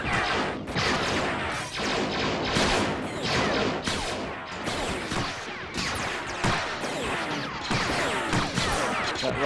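Rifle fire in a Star Wars battle game on Mustafar comes as dense, continuous bursts of blaster shots and crashing impacts, loud and close, with layered explosions throughout.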